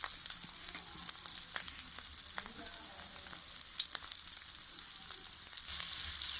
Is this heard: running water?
no